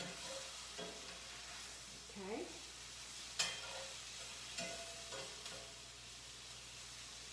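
Mushrooms sautéing in a little oil in a pan, a steady soft sizzle running throughout with occasional stirring scrapes; a voice speaks briefly once.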